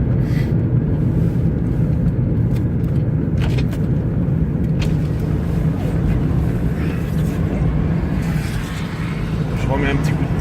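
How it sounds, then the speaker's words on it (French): Petrol engine of a 2012 third-generation Toyota Prius hybrid running on ethanol with 122,000 km, restarting while driving; a steady low engine and road drone fills the cabin throughout, with someone talking over it. "Le moteur se remet en marche un petit coup"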